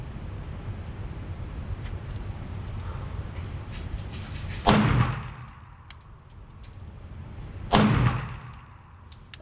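Two sharp pistol shots fired at about seven yards from a Walther PDP and a Glock 17 with an Apex trigger. The reports are a few seconds apart, loud and close, and each one rings briefly over a quiet outdoor background.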